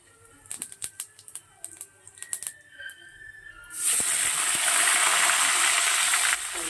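Whole white cumin seeds dropped into hot oil for tempering burst into a loud, steady broadband sizzle that holds for several seconds, after a run of sharp clicks and knocks from the pan.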